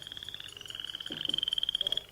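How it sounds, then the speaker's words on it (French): A frog croaks in a rapid, pulsing series of calls over a steady high insect-like drone. The croaks speed up toward the end and sound fairly close but quiet, with no voices. "C'est la grenouille."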